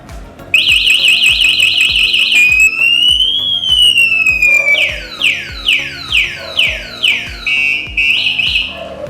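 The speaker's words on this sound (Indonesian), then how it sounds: "itu fitur alarm dan anti maling" A loud electronic anti-theft alarm on an Uwinfly Golden Turtle electric motorcycle shrieks continuously, cycling through rising sweeps, a steady tone and a rapid series of repeating chirps.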